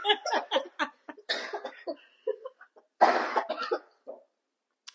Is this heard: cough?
yes